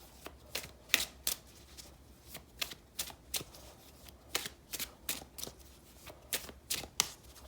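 A deck of tarot cards is shuffled by hand nearby, producing a quick irregular series of crisp riffling snaps and slaps, each burst short and sharp against a quiet room.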